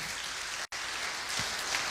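A church congregation applauds during a Spanish-language sermon, a steady wash of clapping that cuts out for an instant before resuming just as evenly.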